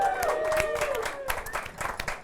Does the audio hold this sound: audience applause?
yes